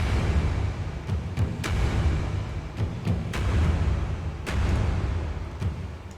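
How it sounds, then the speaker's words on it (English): Big saturated taiko drums from Native Instruments Action Strikes pound in heavy, crunchy hits with a wash of reverb, irregular booming strikes repeating over a dense, distorted low rumble. "it's just big taiko drums and other things"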